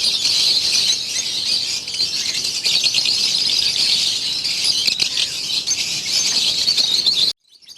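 Lovebirds, including lutino parblue varieties, chatter in a breeding setup: a dense, continuous wash of high chirps and tweets from many birds, loud and close, cutting off abruptly near the end.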